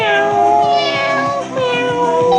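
A human voice imitates a cat meow over and over against a steady background of musical tones, the drawn-out mews loud and close, with no other talk.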